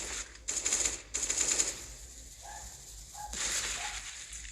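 Bursts of gunfire in a survival video game, several rapid volleys clustered near the start and again later, moderately loud with quieter game ambience between them.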